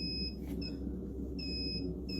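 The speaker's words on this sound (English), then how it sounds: "A power outage in one of the storage rooms was causing the fire alarm to go off." A fire alarm goes off in a storage room during a power outage, sounding as a thin high electronic tone that repeats in on-off bursts over a low steady hum, faint and with no voices.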